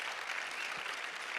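A church congregation gives a short round of applause for God, a soft steady patter of many hands clapping together.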